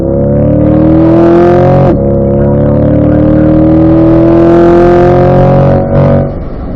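A 2020 Chevrolet Corvette C8 accelerating hard down a race track straight, a loud, close engine drone climbing in pitch, dropping sharply at a gear change, then rising again before a second shift.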